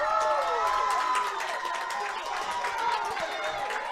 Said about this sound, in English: rightfully so, cheering him out of the ballpark because he did just make a tremendous play for his ball club